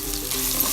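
Bottle gourd curry with chilli powder and salt is stirred in a pan, a soft continuous sizzle with light scraping under it, steady and close, with no voices.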